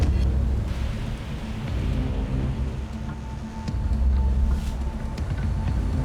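A thunderstorm with steady rain rolling in over a cruise ship at sea, a continuous low rumble and hiss of downpour with swelling thunder, fairly loud and unbroken with no voices.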